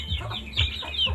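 Chickens cluck in short, repeated bursts close by, a brief run of soft clucks.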